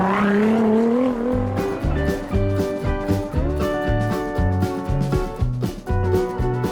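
A new Toyota Land Cruiser 300 under full throttle, its engine note climbing steeply for a second or two before a rhythmic music track with a heavy beat takes over and buries it.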